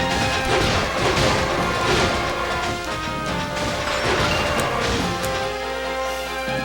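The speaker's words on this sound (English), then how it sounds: "You're gonna get smashed by the ride pod." A ride pod smashing enemies in Dark Cloud 2, with repeated loud crashing impacts and thuds over game noise, ending in a lower hum.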